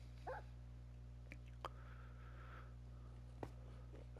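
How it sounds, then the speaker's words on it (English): A Minecraft dog gives a few brief, faint barks and yips, one early and others scattered through the clip, standing out only a little over a steady low game hum. "I've got some dogs in here to hang out with me"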